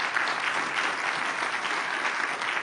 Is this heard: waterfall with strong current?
no